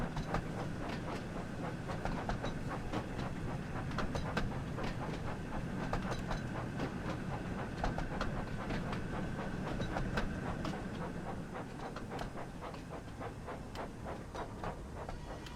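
A train runs in the Thomas & Friends: Wonders of Sodor video game, giving a continuous rumble with steady rhythmic clickety-clack of wheels over rail joints, close and even throughout, with no voices.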